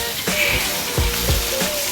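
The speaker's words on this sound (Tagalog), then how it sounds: "Ang sarap pakinggan ng sizzling, no? Nung pag ginigisa." Pork sizzling hard while being sautéed in a pan, a loud close crackle with bursts of stirring, a voice talking briefly over it.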